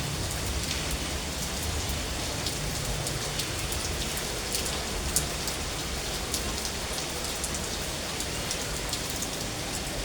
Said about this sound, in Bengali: আজকে কি মুষলধারে বৃষ্টি আসছে